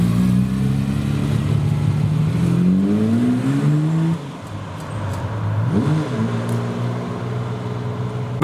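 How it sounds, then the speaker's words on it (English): A Ferrari 275 GTS pulls away from a Porsche cars-and-coffee gathering, its engine revving up through rising gear sweeps, dropping briefly, then climbing again as it moves off into the distance. "we have JK from Jamiroquai leaving in his 275 GTS."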